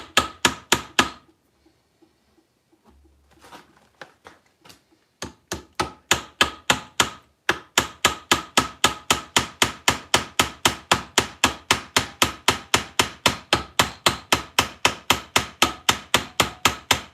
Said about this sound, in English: Now we peen.